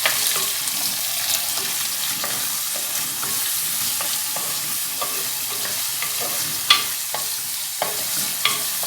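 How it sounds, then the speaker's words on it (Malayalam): Chopped onion frying in a pan for a Kerala-style tender jackfruit dish, with a steady sizzle and frequent scraping stirs from a spoon, plus a few louder knocks against the pan. No one speaks. "നന്നായിട്ടൊന്ന് മൂപ്പിച്ചെടുക്കാം."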